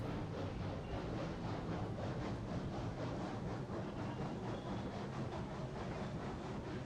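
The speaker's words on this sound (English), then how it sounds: "this is a long train" A long freight train hauled by a Cooke Mogul steam locomotive with sixteen cars in Railroads Online, a steady, close rolling rumble with faint rhythmic clatter and hiss throughout, no voices.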